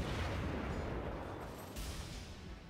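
Naval cruiser guns firing in World of Warships: a deep, rumbling boom of heavy gunfire rolling on, fairly faint and distant, with no voices over it.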